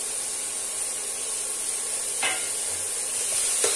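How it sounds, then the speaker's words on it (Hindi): Grated carrot is stir-fried on a high flame as filling for momos, giving a steady sizzling hiss with a couple of brief scraping stirs near the end, close and moderately loud. "तो इसको हम अच्छे से तेज फ्लेम पर भून लेंगे।"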